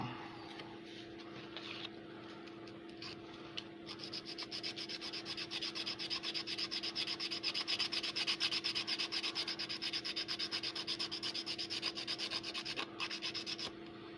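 Cheap sandpaper rubbed by hand across a surface gives a continuous rasping scrub with a rapid back-and-forth rhythm, close and fairly loud over a low steady hum.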